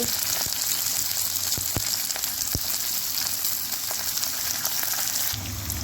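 Onions frying in hot oil with garlic and ginger, a steady loud sizzle throughout with occasional sharp crackles and pops, no voices.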